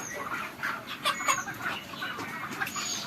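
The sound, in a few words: broiler chickens in a poultry shed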